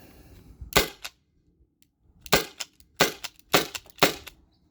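Byrna SD launcher upgraded with a 12 gram CO2 cartridge, fired in five sharp, loud shots, one alone and then four spaced about a second apart, with quiet gaps between.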